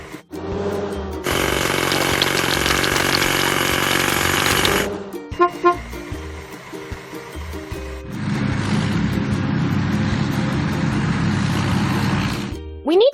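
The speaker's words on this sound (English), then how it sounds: "We need to wash. Hydraulic hammer." Game-style hydraulic hammer from a kids' construction game cracking big rocks, a loud continuous rattling burst followed by shorter clanking hits and another sustained hammering run, with no talk over it.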